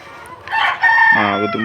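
A rooster crows loudly among clucking Sonali chickens on a poultry farm. The drawn-out crow rises over nearby squawks and ends in a strong, harmonic cry.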